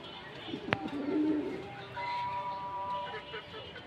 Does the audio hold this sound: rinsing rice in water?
no